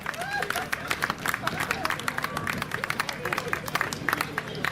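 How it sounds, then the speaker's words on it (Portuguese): Audience clapping at the opening of the Banda Bou carnival in 2019, dense and steady with crowd murmur underneath for the whole stretch. "Atenção, aplauso para nosso ministro."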